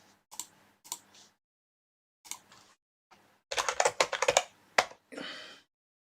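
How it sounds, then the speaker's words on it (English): A computer keyboard is tested with a few scattered keystrokes, then a fast, loud burst of close typing and a last few clicks, with no talking. "I'm just gonna test the keyboard, see if we finally got it working this episode."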